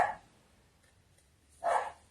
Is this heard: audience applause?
no